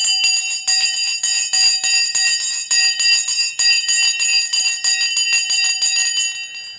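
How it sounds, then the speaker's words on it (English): A loud metallic bell clangs rapidly and repeatedly to mark the stock market open, a bright ringing that runs continuously for several seconds with no talk over it. "let's ring the Sensei bell in 3, 2,"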